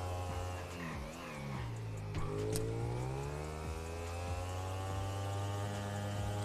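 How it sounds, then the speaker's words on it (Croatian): A car engine failing during a video game roleplay: a loud, steady low drone with stacked whining harmonics that dip, rise and waver in pitch throughout, with no talking. "Oj, crkava mi motor,"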